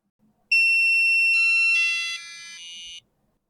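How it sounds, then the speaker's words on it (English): Microcontroller-driven buzzer sounding a loud, continuous electronic tone whose pitch steps down in several stages as the clock frequency is halved, lasting about two and a half seconds with no talk. "So you see that the tone of the buzzer did change as we divided the frequency to slower."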